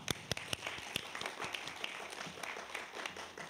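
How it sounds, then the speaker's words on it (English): Applause for nursing graduates at a Gulf Coast State College ADN pinning ceremony, fairly faint scattered clapping from a modest crowd with a few sharper, louder claps near the start. "let's give them a round of applause"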